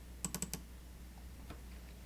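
Four quick, crisp clicks from a computer mouse, close and quiet, followed by one more faint click after a short pause against a low background hum.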